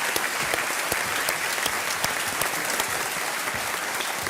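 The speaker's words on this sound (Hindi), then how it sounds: "एक बार तालियों के साथ उनका अभिनंदन करते हैं" A studio audience at a Kaun Banega Crorepati style game show breaks into sustained, dense applause, loud and even from start to finish.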